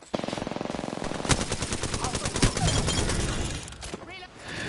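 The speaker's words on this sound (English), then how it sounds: "The enemies are shooting at me." Rapid automatic gunfire in the shooter Apex Legends, a loud, tightly spaced burst of shots rattling continuously for several seconds, followed by heavier impacts and a brief lull before more firing resumes.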